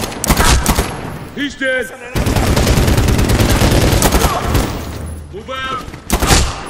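Gunfire in the shooter Medal of Honor: Warfighter, rapid automatic bursts and a dense fusillade of shots that are loud and sustained, with shouting voices breaking in between volleys.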